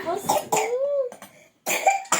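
A child coughs several times up close in short bursts, mixed with a voice sound, then a longer harsh cough after a brief silence.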